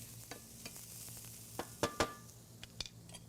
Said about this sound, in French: Là, je rajoute mon ail. On va la faire sauter un peu pour la cuire un peu.